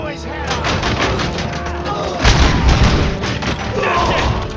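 Gunfire in the RoboCop: Rogue City video game, loud booming shots and rattling bursts layered in a chaotic firefight, with shouted voices mixed in.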